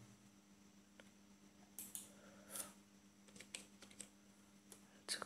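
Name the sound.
typing text on a computer keyboard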